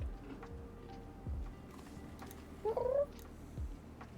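A cat gives a single short meow, faint and slightly distant, amid quiet room noise and a few soft taps.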